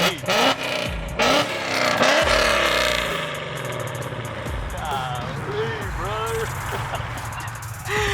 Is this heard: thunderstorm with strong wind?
no